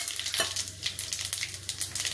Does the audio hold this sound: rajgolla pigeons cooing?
no